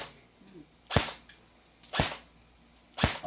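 An M4A1 airsoft rifle fires three single shots about one second apart, each a sharp, loud crack with a quick decay against a quiet background.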